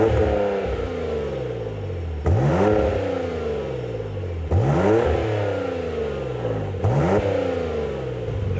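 A Porsche Macan GTS with an Armytrix exhaust, valves closed, revs up three times in repeated sweeps, each climbing and then falling back to idle, close and alone with no talking.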